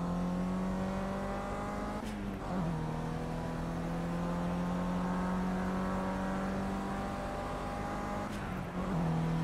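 Steady high-pitched race car engine drone holding revs in the game Project Cars, with two brief dips like gear shifts, continuous and fairly loud.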